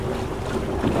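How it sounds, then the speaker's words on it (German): A 100 hp console boat motoring over the sea off Croatia, giving a steady, continuous engine drone mixed with wind buffeting and water rush, loud and close throughout with no talk. "Ein Konsolenboot mit 100 PS und das macht richtig Laune"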